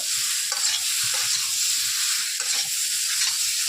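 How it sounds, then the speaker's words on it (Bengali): Vegetables sautéing with turmeric and green chili for a singhi fish curry crackle in a steady, close sizzle, with spatula scrapes and stirring knocks every second or so over the hot oil. "হলুদ কাঁচা লঙ্কা সবজিটা কষে নেব"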